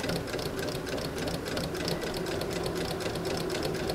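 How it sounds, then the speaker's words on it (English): A sewing machine runs steadily for the whole stretch, its needle chattering in a fast, even rhythm as it stitches along the edge of a candy corn wall hanging, close and continuous with no talk. "I'm just going to take and do a little stitch right along the edge of this"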